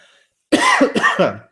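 Three or four harsh, close coughs come in a quick burst from one person, each with a rough throaty rasp, after a brief silence.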